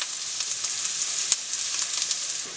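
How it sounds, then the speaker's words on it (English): Seasoned portobello mushrooms sizzle in a pan, a steady, close hiss with small pops and crackles throughout. "we'll give them a couple more minutes here in the pan before we set them aside"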